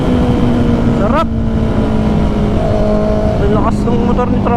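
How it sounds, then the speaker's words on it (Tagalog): A Honda CB650R inline-four 650cc motorcycle engine holds a loud, steady high drone with sharp rising revs near the start and again near the end, close by, while people talk over it. "Ang lakas ng motor ni tropa."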